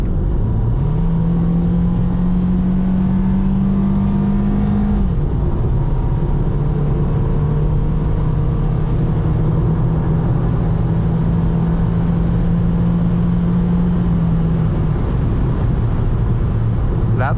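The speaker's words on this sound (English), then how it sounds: "That produced quite a lot of noise and not very much forward acceleration." A Toyota Yaris engine under full acceleration from inside the car: a loud, steady droning roar that climbs gradually in pitch and holds, then drops near the end.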